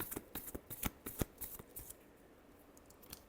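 Tarot cards are shuffled by hand in a quick, quiet run of crisp riffling flicks that thins out after about two seconds.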